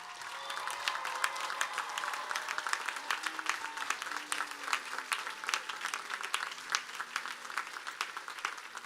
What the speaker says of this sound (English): Please join me in a round of applause for your families and your friends